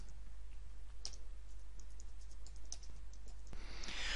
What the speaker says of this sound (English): Now let me carry on typing.